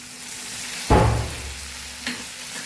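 Kathiyawadi sambharo being mixed in a pan, a sharp burst of sizzle with a scraping stir that fades, then a second smaller stir a moment later, quiet throughout otherwise.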